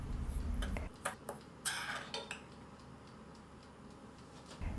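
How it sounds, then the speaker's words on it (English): Dry donut ingredients, including ground cinnamon, allspice and salt, are whisked together in a bowl, giving a few quick light taps and scrapes against the bowl, followed by quieter pauses. "Whisk together until well combined."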